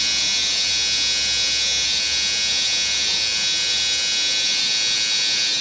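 Steady high buzz of electric hair trimmers run over a comb while cutting a straight hairline edge-up, close and constant throughout.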